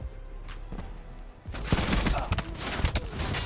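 Black Ops 4 game gunfire crackles in quick bursts of rapid shots, sparse at first and then a dense volley of overlapping rounds with impact noise, fairly close.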